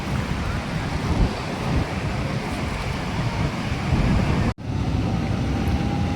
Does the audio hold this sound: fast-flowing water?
yes